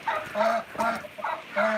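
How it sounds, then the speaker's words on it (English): Backyard chickens pour out of their coop in the morning, clucking and squawking close by in a quick run of five rhythmic calls, loud and overlapping with no talk. "You guys ready for some chicken stampede?"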